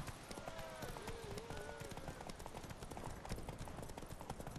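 Horse hooves clip-clop at a steady trot in The Witcher 3 during a horse race, dense and close under busy game music and effects, with brief tonal whinny-like sweeps early on.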